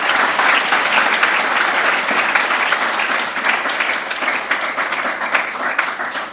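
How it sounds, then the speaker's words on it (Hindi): Loud, dense applause from a crowd at an International Day of Yoga celebration, a steady wash of many hands clapping that holds throughout with no voices. "और एक बार जोरदार तालियां हो जाए"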